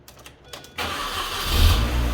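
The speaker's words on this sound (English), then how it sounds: "Car started right up." A Mini with an automatic gearbox cranks and fires up after a brief quiet pause, then settles into a steady, loud, close engine idle that swells slightly.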